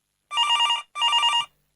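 A telephone rings twice in bright electronic trills, each burst about half a second long with a short gap between them, loud and close with no voices.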